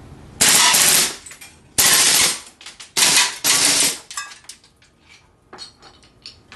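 A GSG 92 rifle fires full auto in several loud, close bursts of rapid shots separated by short pauses, followed by fainter clinks.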